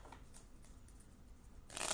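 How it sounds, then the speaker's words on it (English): A tarot deck is lightly shuffled by hand. The cards give a faint, soft papery riffle that ends in a brighter, louder flurry of card edges. "I'm going to lightly shuffle on screen"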